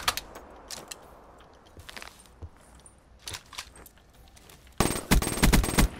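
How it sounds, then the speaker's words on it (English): VMP submachine gun fire in a video game: scattered sharp cracks and short clusters early on, then a loud rapid burst of automatic shots near the end, close and crisp. "Bro, I gunned you with the VMP"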